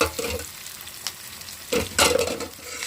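Ginger and garlic with curry leaves sizzle and fry in a pan while a spoon stirs them, with scraping bursts near the start, around one second and a louder stretch just before the end.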